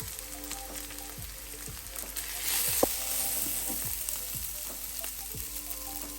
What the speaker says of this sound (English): We'll cook the ginger garlic paste for a couple of minutes, and then we will add masala